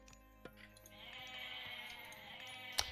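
Goats bleat in the strategy video game Age of Mythology, with one drawn-out bleat rising over soft in-game ambience and a few faint clicks, ending in a sharp click.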